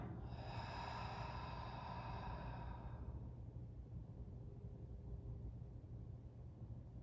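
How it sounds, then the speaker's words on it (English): A deep breath during a gentle yoga flow, drawn in and let out over several seconds, faint and airy beneath a steady low rumble of background noise, with no one speaking. "Take a nice deep inhale. And exhale."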